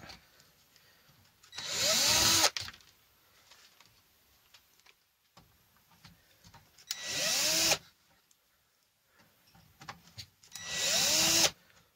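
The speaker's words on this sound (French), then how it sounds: "Prendre une méthode qui va plus vite, c'est la visseuse." An electric screwdriver backs screws out of a JVC A-10X amplifier in three separate whirring bursts, each rising in pitch for about a second, with quiet handling clicks and rustle between them.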